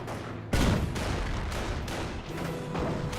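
Dense battlefield gunfire in Company of Heroes 1, with machine-gun bursts and rifle shots rolling together in a continuous loud fusillade with repeated heavy surges.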